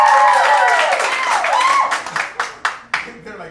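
Brief audience clapping during a live comedy game, starting as a short burst under a speaking voice, then thinning to a few scattered, separate claps.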